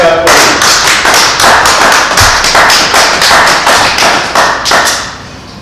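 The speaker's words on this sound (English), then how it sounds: "Give Almighty Yah a hand clap." A church congregation claps in a steady rhythmic beat, many hands striking together loud and close in even repeated pulses that fade slightly toward the end.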